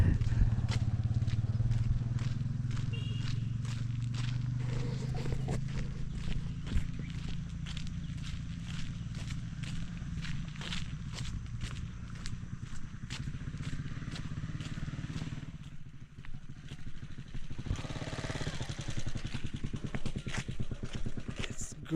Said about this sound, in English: It's a motorbike.